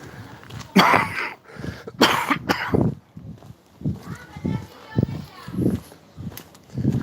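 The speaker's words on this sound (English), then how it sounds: "pardon my cough" Harsh coughing bursts, two loud close coughs early followed by throat clearing, with someone talking between and after them.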